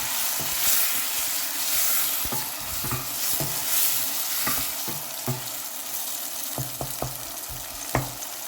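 Tomatoes and green chilies sizzle and fry in a karahi as a utensil stirs them, giving a steady hiss broken by sharp scraping clicks and taps against the pan, close and fairly loud, with no talking.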